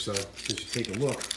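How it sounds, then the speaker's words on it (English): Keys for a Yamaha R3 motorcycle and its alarm remote jangle and clink close by, continuously under someone talking. "These are the keys for it. I have a couple of keys here,"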